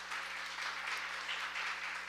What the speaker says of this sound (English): Maybe we could give her a big round of applause.